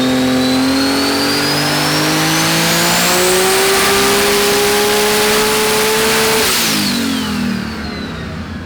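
A V8 running on E98 ethanol revs hard at high power, its tone climbing steadily before dropping sharply near the end, loud and continuous with no voices.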